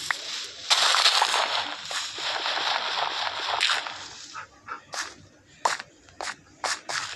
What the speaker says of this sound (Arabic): كلب تعالى تعالى معايا